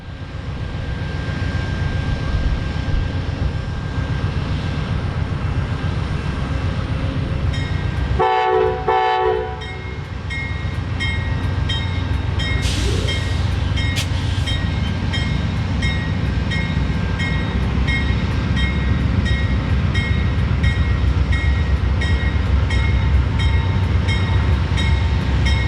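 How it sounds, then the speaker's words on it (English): Amtrak's southbound Crescent, train number 19, idling in Meridian, a steady diesel rumble with a short burst of air or horn midway, heard from nearby without any talking. "we found Amtrak's southbound Crescent, train number 19, patiently waiting for a Norfolk Southern train to move"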